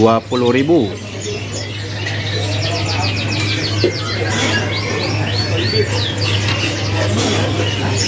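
Bright-coloured Loper canaries from Bandung, stocked for sale, chirp and trill in quick high runs across a steady low hum, with a short voice at the start and bird calls continuing throughout.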